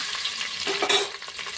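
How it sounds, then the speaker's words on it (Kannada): Potatoes fry in a pan for a mixed-vegetable pulao, giving a short burst of close hissing sizzle with a quick stir partway through, no speech. "ಒಂದು ಸ್ವಲ್ಪ ಫ್ರೈ ಆಗಬೇಕು ಇವಾಗ ಆಲೂಗಡ್ಡೆ ಇತ್ತಂದ್ರೆ ಆಲೂಗಡ್ಡೆ ಸೇರ್ತೀನಿ"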